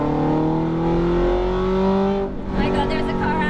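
Ferrari F430 F1 engine revving on a race track, heard from inside the car as a loud, sustained engine drone with rising pitch that dips briefly before surging again.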